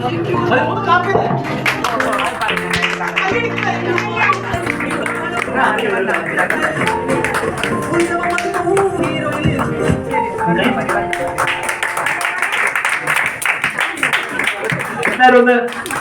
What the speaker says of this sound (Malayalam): ഒന്ന് എല്ലാവരും ഒന്ന് കൈയടിച്ചേ